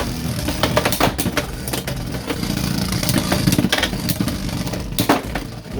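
Beyblade X tops Driger Slash 4-80 Point and Rhino Horn battling: a continuous close whirring scrape of spinning tops, broken by repeated sharp clacks of collisions.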